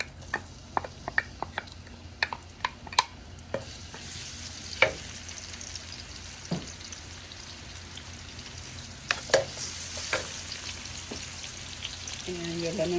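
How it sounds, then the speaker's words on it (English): Garlic sizzles and crackles in hot oil on a stovetop while Hmong egg roll filling is prepared, a steady frying hiss broken by sharp pops and spatters scattered across the whole stretch, fairly close. "when the oil is hot, go ahead and put your garlic."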